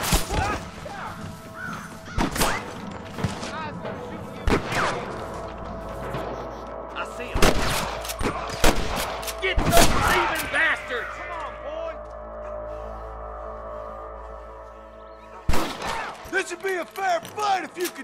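Sniper rifle shots ring out in the Western video game Red Dead Redemption: a handful of sharp, widely spaced cracks amid talking voices and occasional bird caws.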